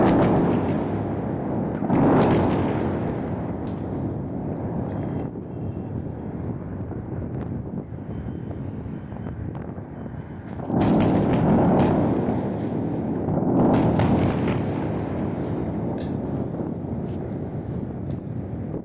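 Heavy, rumbling booms of strikes on IRGC targets in Tehran roll in from a distance, with several louder thuds and blasts spread out over a constant low roar.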